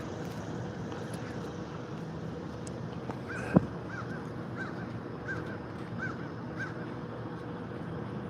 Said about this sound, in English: them crows follow me around everywhere